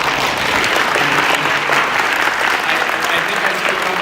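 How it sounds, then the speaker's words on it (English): An audience at a panel discussion applauds steadily, a dense wash of clapping that stays loud and even throughout, with no pauses. "If y'all could give a round of applause for our panelists."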